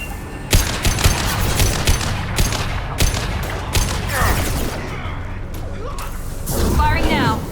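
Gunfire in the video game Mass Effect 2, a loud run of sharp repeated shots and impacts with whooshing effects, mixed with voices calling out during combat.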